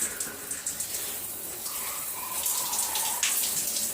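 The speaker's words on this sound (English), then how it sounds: "you can change that simply by washing your hair in the shower" Shower water runs steadily while hair is washed during a wash day for natural hair, a close, continuous hiss and splatter that swells slightly toward the end, with no talking.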